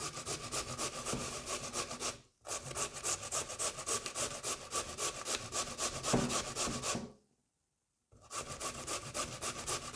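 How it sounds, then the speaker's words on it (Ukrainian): Steady, rhythmic rasping strokes scrape back and forth continuously as potatoes are grated, pausing briefly twice. "зараз натираємо картоплю"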